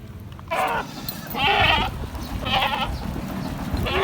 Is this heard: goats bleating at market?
yes